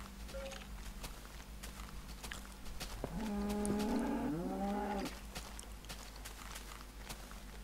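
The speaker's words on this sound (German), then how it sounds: "Nee, das war nur eine Kuh. Da ist eine Kuh." A cow lows once in the blocky Minecraft game world, a drawn-out mid-pitched moo with a short second bellow, heard alone over a steady background hum and scattered small ticks.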